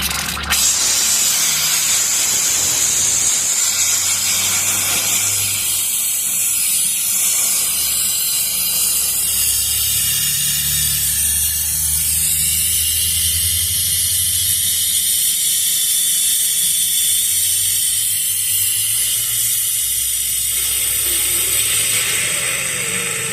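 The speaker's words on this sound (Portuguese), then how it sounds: "tirando a água do compressor aqui, ó" Compressed air and condensed water blast from the drain valve at the bottom of an air compressor tank, a loud steady spray-like hiss that carries on for over twenty seconds before easing slightly near the end.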